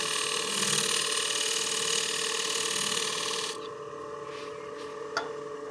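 A beading tool cuts into wood spinning on a lathe while turning a cake stand, making a continuous gritty rasp that runs steadily for a few seconds, then stops abruptly, leaving a quieter hum and a single small knock.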